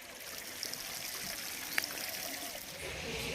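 A bucket of water is emptied out onto a floor, giving a steady, faint trickling and splashing rush that runs evenly the whole time with no break.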